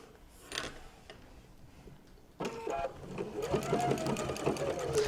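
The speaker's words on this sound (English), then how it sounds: "The first thing I'm going to do is I'm going to sew down this edge to hold my pocket into place." A sewing machine stitches down the edge of a pocket on a fabric notebook holder. A quiet pause gives way to a close, steady rapid run of stitching in the second half, with faint handling noises before it starts.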